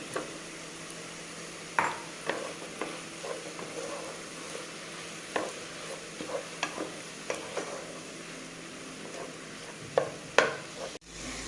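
A spoon stirs chicken mappas curry with potatoes and tomato in a pan, quietly sizzling throughout with scattered sharp scrapes and clinks against the pan, close and unaccompanied by talk.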